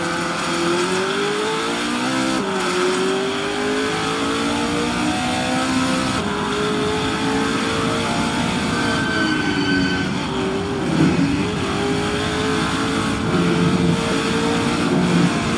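Race cars in the SMSA 2023 Mini Challenge Round 3 pulling away at the start, a loud continuous engine roar with shifting, rising pitch sweeps as they accelerate.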